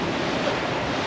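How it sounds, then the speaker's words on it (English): Wind and breaking waves around a sailboat at night on a long solo passage with bouncy seas, a steady, loud, broadband roar of surf and gusting air that stays continuous from start to end. "So there's wind."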